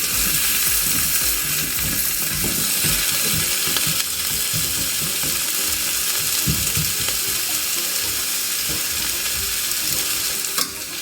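Pumpkin, carrot, onion, pimento, thyme and scallion sautéing for Jamaican-style steamed fish, a constant loud sizzle with repeated stirring scrapes and knocks throughout, no voices.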